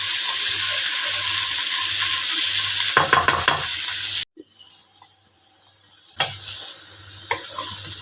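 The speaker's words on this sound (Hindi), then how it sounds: "तो 3 मिनट बाद मैं दोबारा इन्हें मिक्स कर रही हूँ।" Stuffed okra (bhindi) being stirred in a sizzling pan, a loud close hiss of frying with scraping stir strokes that drops silent for about two seconds before the sizzle returns.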